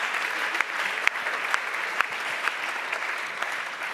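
A conference audience applauds at a closing ceremony, a dense steady patter of many hands clapping at moderate distance, sustained evenly throughout with a few sharper individual claps standing out.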